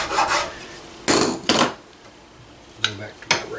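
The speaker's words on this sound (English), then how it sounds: "a bastard file like this one here, that's plenty good enough" A bastard file rasps across a wooden gunstock in a few separate strokes, each a short, dry scraping burst, with quieter gaps between and a faint clink near the end.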